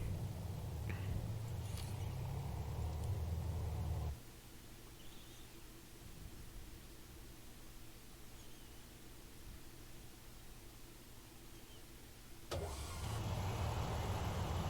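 A Leclerc main battle tank in a video game drives forward, its engine a steady low rumble with a quieter stretch in the middle before the louder roar returns.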